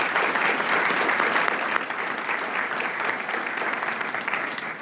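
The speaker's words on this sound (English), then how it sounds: "Can we have a round of applause for FATV?" An audience at a congressional luncheon claps steadily for several seconds, a dense, full round of applause that eases off slightly toward the end.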